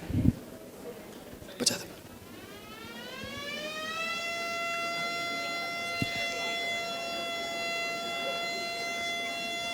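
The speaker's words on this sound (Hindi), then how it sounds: "वहां पर वो सायरन बना रहे हैं, पिछले हफ्ते हमने लैब में बनाया है, कुछ और नहीं है, सिर्फ एक साधारण सा पंखा चल रहा है।" After a couple of knocks, a homemade siren driven by a simple fan winds up from a low pitch into a sustained, steady wail that holds to the end.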